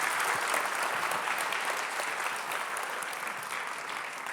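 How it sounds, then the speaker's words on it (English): An audience at a photography conference applauds a presenter, a dense, sustained wave of clapping from a large crowd that stays loud and even throughout, gradually easing slightly. "Can we have a round of applause for Rich?"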